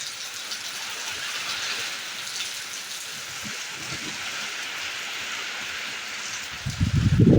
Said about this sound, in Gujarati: પવન સાથે વરસાદ આવવા મળ્યો મિત્રો.